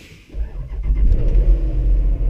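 A car engine starts from a push-to-start button with a short cranking whir, then catches into a loud, steady low idle rumble that fills the rest of the moment.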